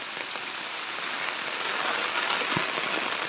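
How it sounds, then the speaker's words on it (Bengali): Rainwater runs into a house after a brief downpour, making a continuous splashing patter that stays steady and moderately loud, with no voices. "পানি দেখেন বাড়িতে কিভাবে পানি আসতেছে"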